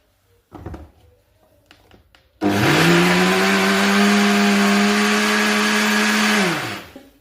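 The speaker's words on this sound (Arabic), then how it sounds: "غنطحن الخليط حتى يولي بيض" An electric blender whips eggs and sugar for an orange cake batter. After a few soft clatters it starts abruptly and runs loud and steady for about four seconds, then winds down.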